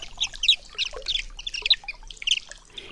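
Western sandpipers on the Stikine River Delta, a busy flock of high, squeaky peeps and chattering calls repeating in quick overlapping bursts, fairly close and lively throughout.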